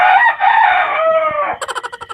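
A rooster crows once, loud and close, its long strained call trailing off into a short run of rapid clucks at the end, with no one speaking.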